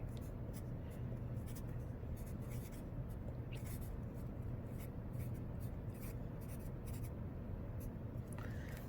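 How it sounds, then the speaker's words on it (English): Writing on paper produces continuous, close scratching strokes with short repeated scrapes, heard over a dense background rumble and with no speech. "So I'm going to write down that right here."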